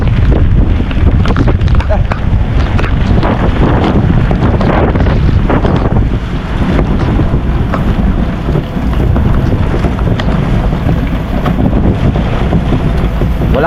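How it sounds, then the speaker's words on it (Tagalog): Strong typhoon wind in Dinahican, Infanta, Quezon roaring and buffeting the microphone continuously, loud and rumbling, with faint voices beneath the gusts. "Lakas ng hangin eh, ngayon."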